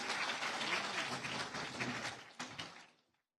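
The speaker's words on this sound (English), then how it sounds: "Keep the applause going for Mr. Gaurav, please." Audience applause fills a college annual day function at Guru Govind Singh College of Commerce, a dense clapping roar that holds steady for about three seconds, gives a brief sharper burst near the end, then stops abruptly.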